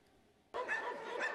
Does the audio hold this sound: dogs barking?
yes